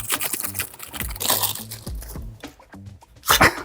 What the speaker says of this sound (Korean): 테이프 한번 뜯어보겠습니다.